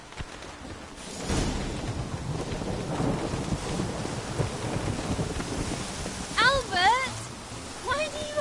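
Steady rain and rumbling thunderstorm noise in a video game roll on, with a few brief vocal outbursts rising near the end.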